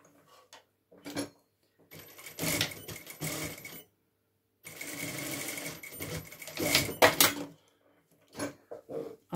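A sewing machine stitching the seam of a fabric face mask, running in several close, steady buzzing bursts of a few seconds each, separated by pauses with light handling clicks.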